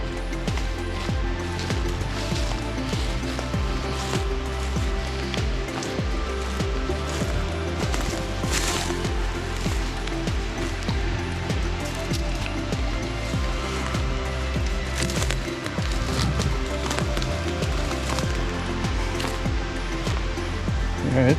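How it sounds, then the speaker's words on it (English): A creek flows through a ravine in a steady, loud broadband rush of water that continues unbroken throughout, with faint footsteps and rustling nearby. "I definitely hear the river getting closer, or the creek."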